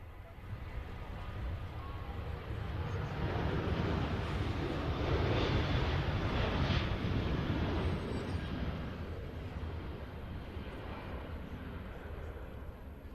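Pegasus airliner engines spool up for takeoff as a broad jet roar that swells to a peak midway and then eases slightly, heard from some distance without talk.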